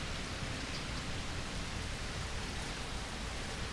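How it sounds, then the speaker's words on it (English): Heavy rain pours steadily during a thunderstorm in Fort Lauderdale, Florida, a dense, continuous hiss filling the whole clip with no voices. "It's raining heavy."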